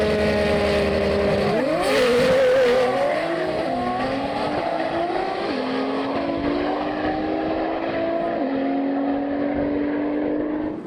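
Nissan Skyline GT-R race cars, including 3.2-litre and 2.6-litre builds, accelerating hard down a runway: loud engines climbing in pitch through several gear changes, with a brief tyre squeal near the start.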